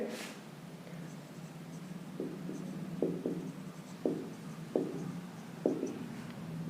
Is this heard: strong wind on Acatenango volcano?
no